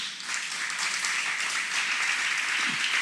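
Steady applause from a large church congregation, dense and continuous clapping filling the room for a few seconds with no voices over it.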